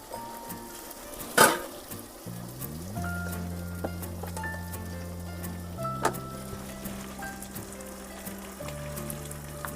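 Food frying in a pan with turmeric, cooked inside a parked truck, with a bright scraping stir at the start, then steady sizzling, scattered utensil clinks and a low mechanical hum.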